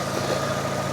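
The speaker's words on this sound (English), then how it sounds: "So I'm just warming the engine up a little bit, just to warm the oil up a bit" A Fiat 500 engine idles steadily while warming up, a low, even hum that holds close and constant with no voices over it.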